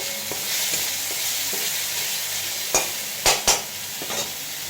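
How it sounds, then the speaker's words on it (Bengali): Whole cumin seeds, ginger paste and green chili frying in hot oil for a Bengali potol kalia, a steady close sizzle with a few sharp spatula scrapes and clicks against the pan toward the end. "গোটা জিরে ফোড়ন দিয়ে দিলাম এবার দিয়ে দিলাম একটু আদা বাটা একটু শুক কাঁচা লঙ্কা"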